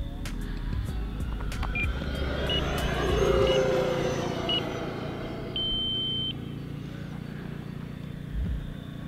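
A short electronic beep from an RC flight timer, with a few faint chirps followed by one longer tone, heard outdoors over the low rumble of wind and distant motor noise at an RC jet flying field.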